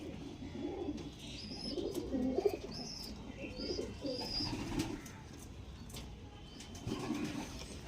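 Several pigeons coo softly in low, overlapping rhythmic calls, with faint chirps and small clicks in an otherwise quiet space.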